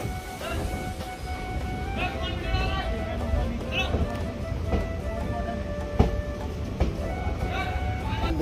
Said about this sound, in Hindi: यहाँ पर अभी एक ट्रेन खड़ी हुई है